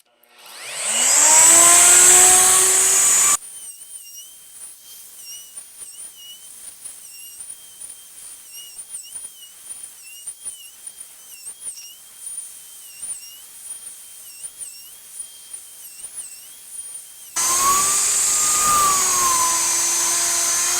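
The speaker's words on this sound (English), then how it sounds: "You see what you guys think of this Crafted Elements router sled." A wood router runs in a Crafted Elements router sled while flattening a board, roaring loudly and close for the first few seconds, dropping to a quieter steady whine through the middle, then roaring up loud again near the end.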